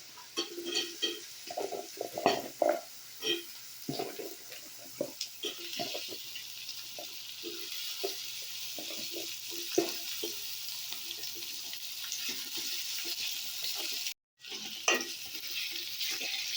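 Drumstick (moringa) pieces fry in hot oil for a prawn curry, giving a continuous sizzle broken by frequent scraping stirs of a spoon in the pan, with one brief dropout near the end.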